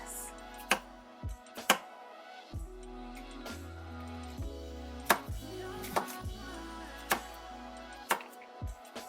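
A Nakano kitchen knife slices through a Twinkies Delight dessert, sharp chopping knocks spaced irregularly against a board under background music, close and distinct.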